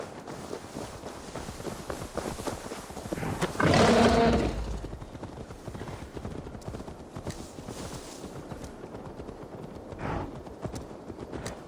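Horse hooves clip-clop steadily through Assassin's Creed Valhalla gameplay, mixed with other game sounds, with a louder swell of activity partway through before the hoofbeats settle back into an even pace.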